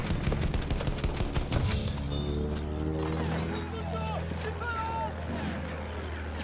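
Bombs exploding in Battlefield 1, a dense run of heavy rumbling blasts and gunfire sustained throughout under busy game noise, with voices talking over the top.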